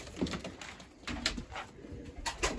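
Homing pigeons coo in a loft, with soft repeated throaty calls rising and falling at close range and no talking.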